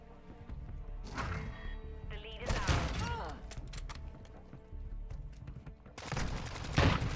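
MCPR 300 sniper rifle fire in Modern Warfare 2 multiplayer: a few sharp, loud close shots with bolt-action clatter between them, mixed with distant gunfire and other match noise.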